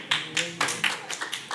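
Scattered applause from an audience at a city meeting in Boynton Beach, Florida: a handful of separate, sharp claps that come in uneven bursts, fairly close and moderately loud, with a low murmur of speech beneath them.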